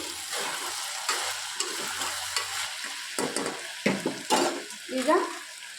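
Onions fry in oil with garlic and chili in a pan, giving a steady close sizzle with occasional stirring scrapes and light utensil clinks; no talking.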